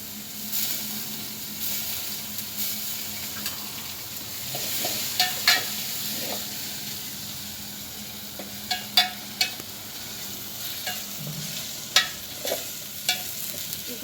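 Greens being tempered in hot oil: a soft, steady sizzle and hiss with occasional light stirring clicks of a utensil against the pot.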